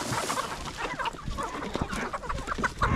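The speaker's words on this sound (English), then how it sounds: "y'all can watch the chickens have Royal Rumble while I get some more feed" Chickens in a farm pen cluck and squawk in a dense, overlapping chorus, scuffling and jostling near the listener, with no talking.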